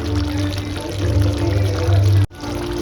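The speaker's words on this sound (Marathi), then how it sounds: "खोबरा टाकतोय" Coconut is tipped into a cooking pot of cooked peas and potatoes, making a continuous soft pouring rustle up close over a steady low hum before a sudden short cut near the end.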